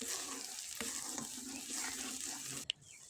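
Spice masala with salt, turmeric and red chilli powder fries in a pan for bitter gourd curry, a soft steady sizzle with faint stirring scrapes and a short sharp clink near the end.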